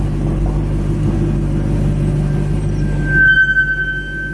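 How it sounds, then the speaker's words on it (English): Brakes squeal on a loud Audi R8 supercar with an Armytrix exhaust, a rising high whine emerging late over the car's low engine rumble as it slows. "You can hear my brakes."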